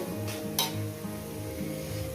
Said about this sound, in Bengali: এটাকে আমি এক থেকে দু মিনিট একটু ভেজে দেব